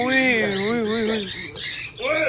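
Cockatiel parrot squawking up close while being handled during a breeding check, giving loud, harsh, wavering calls that rise and fall over a couple of seconds.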